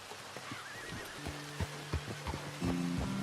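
A horse in Red Dead Redemption 2 neighs and whinnies in a bright, drawn-out call, followed by a few hoof clops and synthetic game-like tones.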